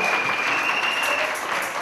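Church congregation claps for Sister Eva Dicom in a steady, loud wash of applause, with a faint tone running through it.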